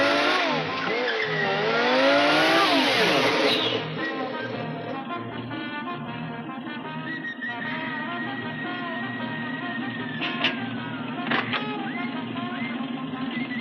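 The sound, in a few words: car engine starting and revving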